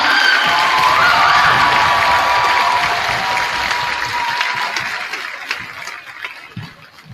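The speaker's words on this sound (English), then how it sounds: "Can we have one more round of applause for today's event?" A crowd at a high school senior intent night claps and cheers loudly together. The dense applause stays steady at first, then gradually tapers off with a few whoops near the end.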